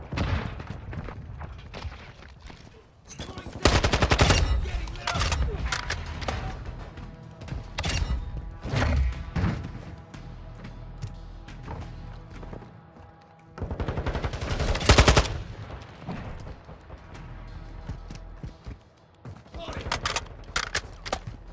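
Gunfire in the shooter Modern Warfare II during a 10v10 match, with several loud bursts and sustained automatic fire separated by quieter gaps, a voice talking over parts of it.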